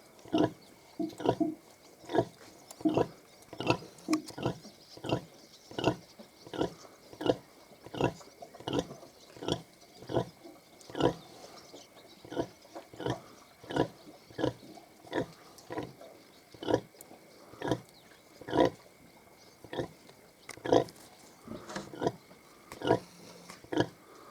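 A Mangalica sow and piglets grunting steadily in a long run of short, rhythmic snorts, fairly close, with no talking over them.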